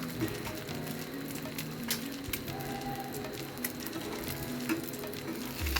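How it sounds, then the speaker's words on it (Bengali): Bread slices frying in a pan for breakfast, a soft steady sizzle with faint stirring and bubbling, fairly quiet throughout. "সাথে পাউরুটিও ভেজে নিব, সকালের নাস্তা।"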